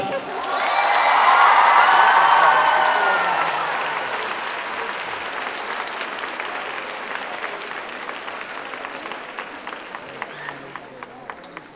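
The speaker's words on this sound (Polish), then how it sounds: "Raz jeszcze wielkie brawa dla nich." Audience at the final gala concert of a scouting festival bursting into applause with loud cheers and whoops that fade within a few seconds, leaving steady clapping that thins into sparser, separate claps toward the end.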